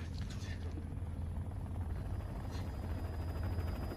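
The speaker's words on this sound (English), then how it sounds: "真的有 helicopter 嘞" Helicopter flying overhead in a movie scene, a steady low rotor drone holding evenly throughout at moderate distance, with a brief voice or two faintly over it.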